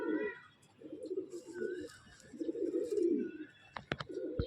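Pigeons in a loft give several close, low, rolling coos in bursts, with a few sharp taps near the end and faint chirps behind them.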